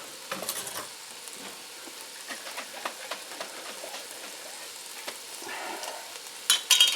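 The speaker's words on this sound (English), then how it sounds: "You wait till that's sizzling, good and hot." Roast pan drippings sizzle steadily in a hot pan with crackling bursts and faint stirring scrapes, fairly close, and a brief louder flare near the end; no one speaks.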